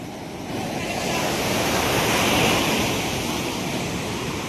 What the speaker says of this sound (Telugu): అలలు పొంగిపోతున్నాయి ఫ్రెండ్స్. చూడండి మామూలుగా రావట్లేదు ఫ్రెండ్స్.